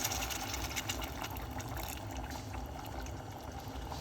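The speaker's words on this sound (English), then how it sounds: "we're going to add roughly about a cup of water inside of it." Boiling water pours steadily into a pot for vegetable soup, giving a continuous close splashing and gurgling wash with no talk.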